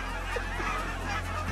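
A flock of geese honks steadily during a goose hunt in Southern Manitoba: overlapping calls at mid distance over a constant low wind-like rumble, with no talk.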